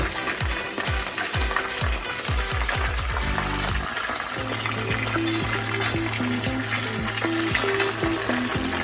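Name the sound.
chicken pieces frying in oil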